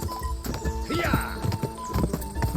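A horse gallops in the Kingdom Come Deliverance 2 video game, its hooves beating a quick, steady clip-clop. A brief whinny and faint voices sound beneath the hoofbeats.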